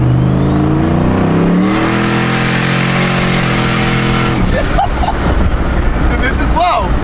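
An 800-whp race truck accelerates hard, its engine note climbing loudly through a gear before dropping into rough rumbling, with people talking over it near the end.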